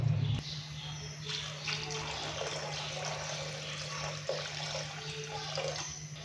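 Water pours steadily into a cooking pot holding beef trotters for paya, a continuous rushing splash that lasts several seconds, with someone speaking lightly over it.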